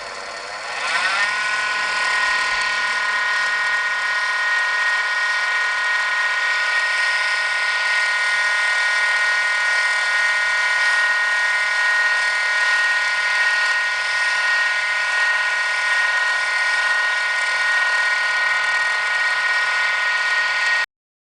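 A rotary tool running at a higher speed while buffing plastic drawn with a 3D pen gives a steady, loud whine with strong tonal harmonics. It holds constant for about twenty seconds after a short spin-up, with no talking.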